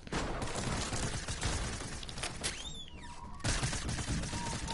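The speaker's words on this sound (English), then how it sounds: "Are you shooting at someone?" Dense, rapid gunfire crackles through a multiplayer shooter game, with bursts running nearly continuously. Brief whooshing and a tonal beep cut in partway before the shots resume at full strength.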